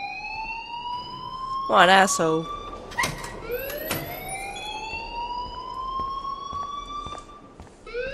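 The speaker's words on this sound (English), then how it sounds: "please turn off that alarm since that's your job" A fire alarm in the video game Life Is Strange wails in rising, sweeping siren tones throughout, with a person speaking briefly over it and other sharp game sounds breaking in.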